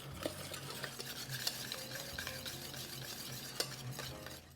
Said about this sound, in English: So just keep whisking while it's heating so you don't get any clumps in there.